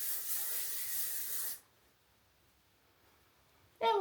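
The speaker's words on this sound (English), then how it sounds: "I'm just gonna kind of spray that a little bit." A hairspray can hisses onto freshly curled hair in one steady, close burst lasting about a second and a half. Silence follows, then a brief sharp sound right at the end.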